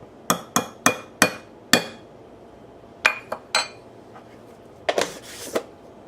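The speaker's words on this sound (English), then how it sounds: "we whisk this all together without spilling it all over the counter" A whisk knocks sharply against a bowl while a cornstarch mixture is stirred, giving a quick run of bright clinks, a pause, a few more taps, then a softer rattling burst near the end.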